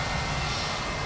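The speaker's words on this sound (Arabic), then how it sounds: "شوفي طائرة جالسة تحوم في الجو" An airplane engine roars continuously in a short, steady, fairly loud burst with no voices.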